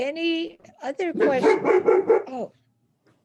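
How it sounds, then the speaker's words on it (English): A pet dog barks a few times in a home during an online planning meeting, sharp close yaps mixed in with a person speaking. "That's my dog."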